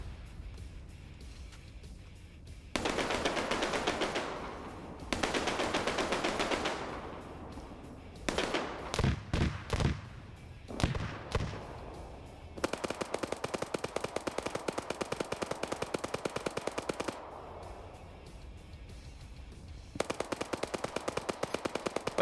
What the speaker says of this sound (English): Wombat taking some heavy fire.